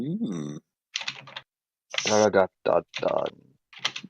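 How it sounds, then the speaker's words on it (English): Hard, clacking keystrokes on a computer keyboard tap away in the background while people talk over them in bursts. "Who's smacking the shit out of the keyboard over there?"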